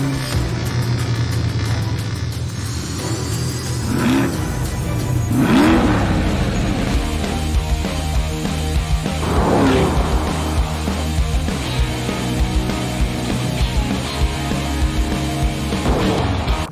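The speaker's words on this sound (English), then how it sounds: "this car puts out a whopping 490 horsepower, and let me tell you, it just sounds amazing" A 2021 Corvette Stingray C8 with its 490-horsepower engine, revving loudly nearby in several rising and falling surges over a steady rumbling idle.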